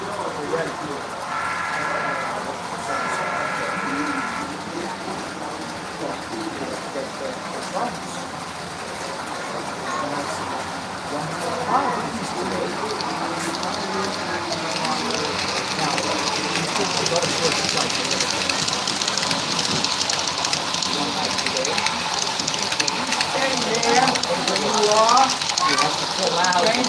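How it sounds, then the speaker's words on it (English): A model railroad train runs on a layout at the South Florida Fair, its steady rolling rumble blending with a busy crowd murmur and nearby voices throughout. "Train's coming out of the water over here."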